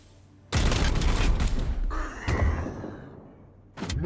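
Point-blank gunfire in Warhammer 40,000: Chaos Gate, a loud sustained burst of shots up close, followed by a second shorter blast and another burst at the end.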